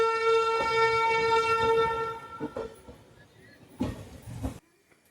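Latur–Pandharpur pilgrimage special train pulling out from platform 3 at Kurduwadi station, a sustained horn blast held for about two seconds, then rumbling movement and clatter, with a louder burst of noise near the end.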